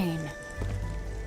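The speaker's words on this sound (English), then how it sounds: "Splattering rain." Rain patters steadily on a surface in the video game Arknights: Endfield, a soft, continuous wash sitting under a low steady tone that is heard alone for just over a second.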